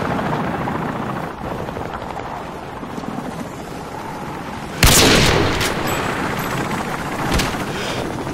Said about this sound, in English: Friendly helicopter inbound.